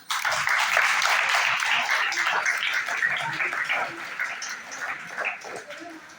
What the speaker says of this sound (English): Please clapping.